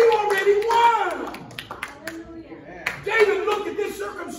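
A church congregation claps in praise, with quick bursts of handclaps mixed with a preacher's voice, loud and close, falling briefly quiet before clapping and talk return.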